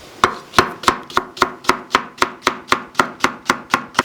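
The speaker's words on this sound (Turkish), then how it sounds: "Yine pırasanın beyaz kısımlarını pirincin içine doğrayacağız." A knife chops the white parts of leeks on a board in a steady, brisk rhythm, about fifteen sharp close-up strokes with no talking.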